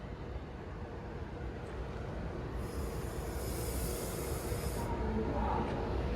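Class 390 train 390-010 Cumbrian Spirit passing through Stoke-on-Trent station, a steady rumbling roll with a hissing high squeal rising midway, close and continuous, no talk.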